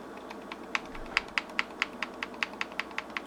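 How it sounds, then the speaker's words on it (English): A 1911 pistol's slide chatters against its frame as it is wiggled, a series of light, quick metallic clicks in an irregular rhythm, close and fairly quiet with no speech. "you're going to wiggle. Now you can hear some chattering."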